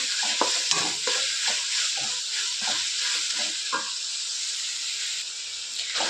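Tomato slices frying in a pan give a steady close sizzle and hiss throughout, with repeated stirring scrapes in the first four seconds before the frying settles to a continuous sizzle.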